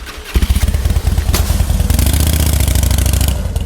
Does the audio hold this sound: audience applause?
no